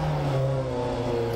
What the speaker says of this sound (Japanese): でもこのエンジン吹けてくるのいいね、下から